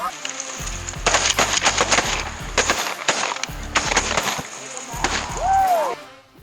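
Shotguns fire from a cedar blind during a Canada goose hunt in a disced field, several sharp blasts in quick clusters, loud and close, with geese and faint voices between shots.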